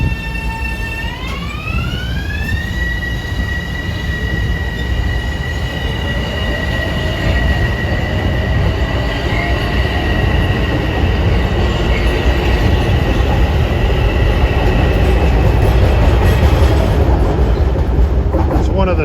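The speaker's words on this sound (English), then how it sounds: "There's 755 waiting to depart with his M7As" Metro-North train 755, made up of M7A electric railcars, departs with a rising whine of traction motors climbing in pitch over a steady loud rumble, with wheel noise building as it pulls away.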